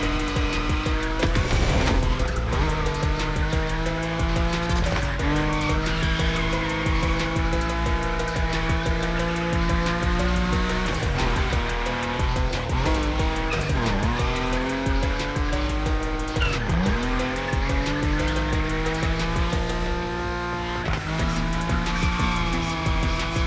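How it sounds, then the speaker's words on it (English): A Nissan Nismo drifts in The Crew: Motorfest, its engine droning loud and steady while tires squeal in long sustained howls, with pitch sweeps as the throttle shifts through the slides. "Your Nismo is powerful enough to slide along on its own when you're at high speed"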